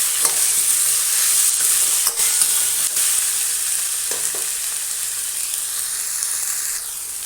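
Onions, chilli and tomatoes sizzle and hiss steadily in a hot pan, with a few soft clanks of stirring, and no voices.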